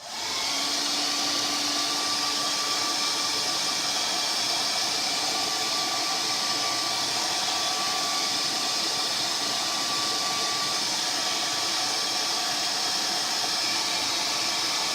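A steady, loud blowing hiss of a dryer aimed at wet ink on a t-shirt runs continuously from start to finish without a break.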